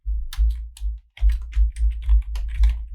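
Close-up typing on a computer keyboard, bursts of soft key clicks with a low thumping tone under them and a short pause midway.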